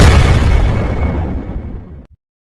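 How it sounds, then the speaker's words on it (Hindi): A booming gunshot blast fills the sound, loud and close, its roar slowly fading over about two seconds before cutting off sharply. "गन नीचे गिरती है और गोली चलकर"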